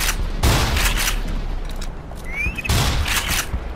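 Two bursts of rapid gunfire in Black Mesa with a short pause between them, punchy and close, plus a brief electronic whistle in the gap.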